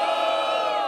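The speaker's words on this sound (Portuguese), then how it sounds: "Quem acha que ele foi superior, faz barulho." A crowd at a rap battle roars and cheers loudly in one sustained burst of voices and whoops, close and dense, with no single speaker standing out.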